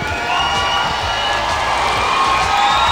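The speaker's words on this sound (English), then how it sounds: "We appreciate your cheering on the True Blue fans" True Blue fans at a 1998 San Antonio gathering cheer loudly. A continuous wall of crowd noise with shouts and whoops holds at full strength throughout.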